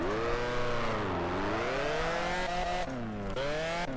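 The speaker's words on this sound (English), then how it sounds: "You also find that the engine sounds are, not only extremely loud" Car engine in the Drift Streets Japan video game on the Akina mountain course, revving loudly and steadily with pitch rising and falling in sweeping waves, briefly dipping near the end before climbing again.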